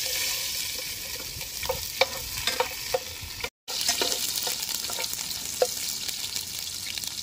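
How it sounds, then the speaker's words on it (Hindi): Onion frying in hot oil in a pan on high flame for Indian mutton chaap, a steady close sizzle with small crackles and pops throughout, broken by a brief gap. "दोस्तों तेल गरम हो गया है, अभी हम कांदा डालेंगे अंदर।"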